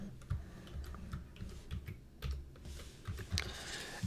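Typing on a computer keyboard, with rapid irregular key clicks running steadily throughout at moderate, close-range loudness and no talking.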